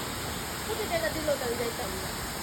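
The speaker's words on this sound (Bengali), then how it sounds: "কক্সবাজারের ডাবল ওয়াটারফল" A double waterfall, one large and one small cascade, in a deep jungle near Cox's Bazar, Bangladesh, gives a steady broadband rush of falling water, with a faint voice barely audible beneath it.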